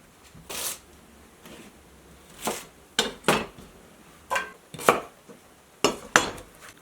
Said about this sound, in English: we need to get our fries sliced up into our cast iron skillet